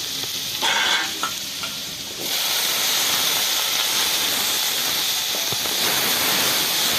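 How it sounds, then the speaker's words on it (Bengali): Potatoes and kochra crackle in hot oil, the sizzle jumping to a loud, dense hiss after about two seconds and holding steady with occasional stirring clicks. "তেলটা গরম হয়ে গেছে, আলুগুলোকে দিয়ে দিচ্ছি।"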